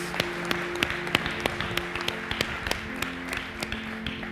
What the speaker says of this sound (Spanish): Dale un fuerte aplauso a nuestro Señor.